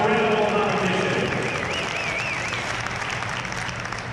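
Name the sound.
crowd applause at a gymnastics championship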